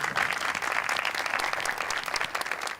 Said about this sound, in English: a clap for everyone